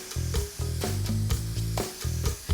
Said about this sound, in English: Go ahead and grab it and give your inner fender wells a good spray.